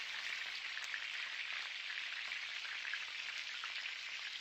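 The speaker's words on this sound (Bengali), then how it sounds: "কড়াইয়ের মধ্যে তেল গরম করে নিয়ে এইভাবে একটা একটা করে ছেড়ে দিচ্ছি" Paneer and potol patties frying in hot oil in a wok, a steady, even crackling sizzle at close range with no voices.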